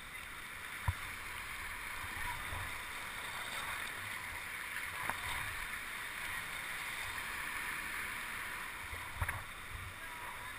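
Sea swells surge and wash through a rock tunnel around a kayak, a constant rushing, hissing roar broken by a few low thumps and splashes, heard alone without voices.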